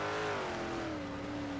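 A race car engine in an iRacing event at Lanier Raceplex holds a steady, buzzing drone with a pitch that slowly sags, alone and close, running rough and sour.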